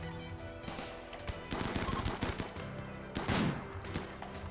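Rimworld combat gunfire: sustained machine-gun-style bursts and single shots crackling continuously, fairly loud, with heavier impacts near the end and no talking.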